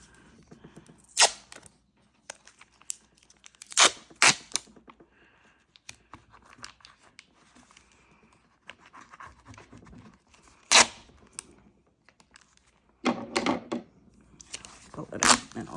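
Packing tape peeled up from printed paper in short sharp ripping bursts, several separate pulls spaced across the stretch with quiet handling noises between, heard close and fairly faint.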